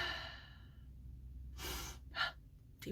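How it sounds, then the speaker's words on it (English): Slow, deep breaths during a yoga class, a long exhale near the start and two further breathy bursts later, close and soft over a low background hum. "Deep breathing."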